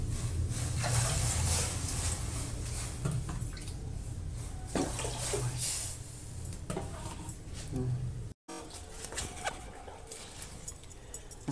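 Mung dal being rinsed under running water in a kitchen, a steady rushing stream with splashing and handling of the lentils, fairly close and continuous for most of the stretch, with a brief break before it resumes.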